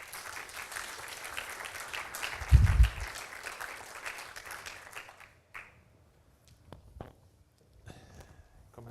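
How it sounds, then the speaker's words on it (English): An audience at a theology summer school applauds a panel taking the stage: dense clapping for about five seconds, then a few fading claps and footsteps in a quiet room. "Give them a round of applause."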